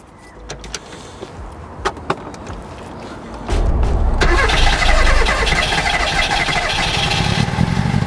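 A three-wheeler car that is slow to start cranks with a few sharp clicks and sputters, then catches and settles into a loud, rough, continuous engine roar through a large exhaust.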